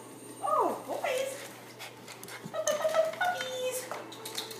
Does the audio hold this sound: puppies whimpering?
yes